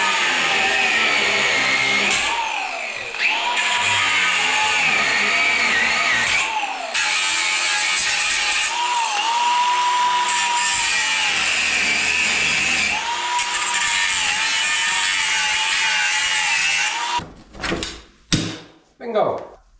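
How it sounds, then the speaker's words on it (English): An angle grinder cuts through a metal door latch at an abandoned derelict cottage, a loud sustained whine rising and dipping in pitch under load for most of the clip, then several sharp knocks and clunks at the end. "I have the angle grinder with me, and I might be able to get that latch off"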